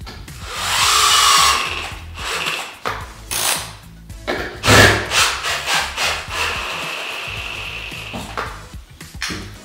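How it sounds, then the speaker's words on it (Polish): A drill drives a screw into a wall plug during underfloor-heating renovation work: loud, close bursts of motor whine with uneven pulses as the screw bites, then a series of shorter revving spurts, with no talk. "Bierzemy kołek, wbijamy i wiercimy wkręta."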